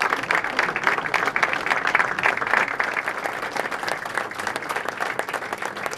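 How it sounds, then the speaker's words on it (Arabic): Sustained applause from a large crowd filling the Hassan II arena at the King Mohammed VI show jumping final in Rabat, dense steady clapping throughout with no pauses. "ووسط تصفيقات الجمهور الغفير الذي ملأ جنبات حلبة الحسن الثاني بالمشور السعيد"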